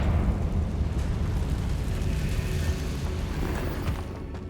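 A Confringo fire spell blast in Hogwarts Legacy on hard mode, a loud sustained fiery roar and rumble that stays dense for several seconds before easing slightly at the end.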